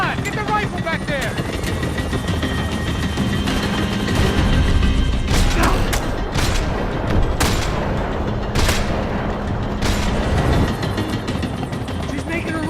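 Rifle gunfire in the video game Max Payne 3, rapid bursts of shots over engine and helicopter noise in a loud, busy action scene, with shouting voices throughout.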